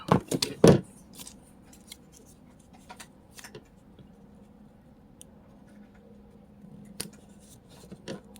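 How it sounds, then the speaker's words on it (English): Scissors snip through paper along a dotted guideline for a craft project, giving a few close, crisp cuts at the start, then quiet, sparse handling sounds. "I'm using these dots as a guideline to cut."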